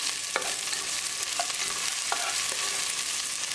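Chopped onion and ginger fry with a steady sizzle in a pan while a utensil stirs them, scraping and clinking against the metal at a few scattered moments. No voices are heard.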